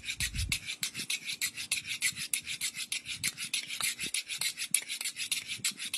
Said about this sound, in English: so I can sharpen a knife like that